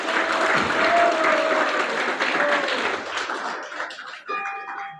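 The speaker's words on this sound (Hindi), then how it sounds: "इनके लिए ताली बजाएंगे तो" An audience bursts into applause at a Sunday devotional festival class, the clapping loud and dense for about four seconds before thinning and fading out at the end.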